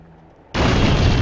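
A firecracker bang bursts in abruptly after a quiet lead-in and stays as a loud, sustained crackling roar.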